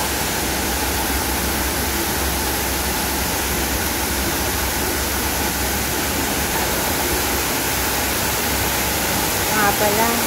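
Waterfall inside a cave in Hong Kong Park, a steady broadband rush of falling water, constant and fairly loud throughout with no breaks.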